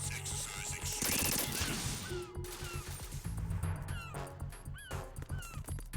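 Gunfire from the video game Metal Gear Solid 2 crackles in short bursts, a rapid rattle early on, then scattered shots mixed with game sounds, all fairly faint.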